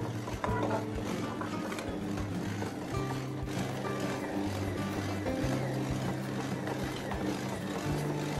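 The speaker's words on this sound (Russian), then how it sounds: "Вот уже в течение 15 минут робот работает, замешивает." A stand mixer runs steadily, kneading brioche dough for an Easter kulich, with a low continuous motor hum and faint mechanical rattling throughout at moderate distance.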